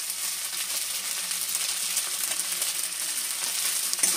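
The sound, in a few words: stirring Maggi masala into frying suji filling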